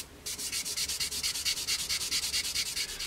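Rapid, even back-and-forth scratching strokes of sandpaper rubbing a hard plastic model aircraft, a 1/48 scale P-40N Warhawk kit, close and steady, about seven strokes per second.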